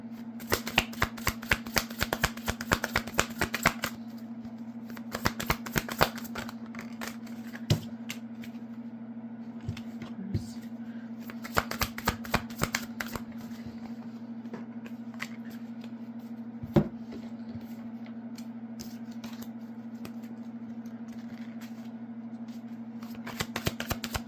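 Tarot cards are shuffled by hand in repeated quick riffling bursts with brief pauses between, close and fairly quiet over a low steady hum.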